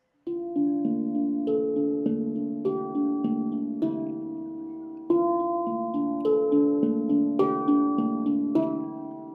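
Ringing metallic tones struck one after another in a slow melodic pattern, each note sustaining and overlapping, with no voices.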